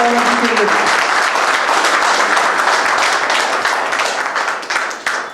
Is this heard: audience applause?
yes